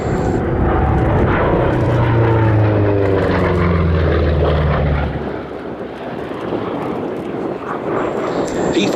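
A Republic P-47 Thunderbolt fighter at the Battle of Britain Air Show at Duxford makes a loud, close radial engine roar that sweeps past and then fades to a lower rumble. An announcer talks over it.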